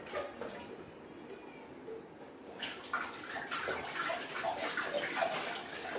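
A small child plays and splashes in bath water, producing soft, continuous sloshing and rippling that grows busier partway through, close by and moderately quiet.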